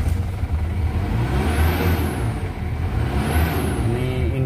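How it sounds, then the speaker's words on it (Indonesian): The diesel engine of a 2003 Mazda BT 4x4 pickup cranks and starts after the glow plugs, then settles into a loud, close, steady idle with a faint whirring overhead. "Oke, kita coba langsung dengarkan suara mesinnya."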